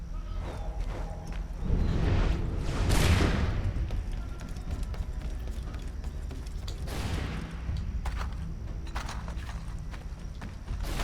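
Several loud musket volleys crack amid a busy Assassin's Creed III battle scene, with bursts of gunfire, clattering movement and a steady wash of game noise.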